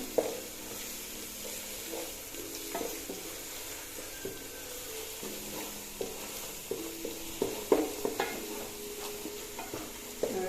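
Biryani masala for a Palakkad-style chicken biriyani sizzles in a pan as Kashmiri chilli powder is stirred in, with a steady frying hiss and irregular scrapes and taps of a spoon against the pan, close up and with no talking.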